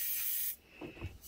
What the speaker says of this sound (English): Spray the top of that one.